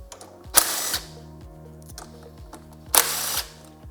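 A ratchet with a 10mm socket works the fender fasteners on a 2021+ Yamaha MT-07, giving close, rapid ticking clicks in steady runs, broken by two short, sharp louder bursts.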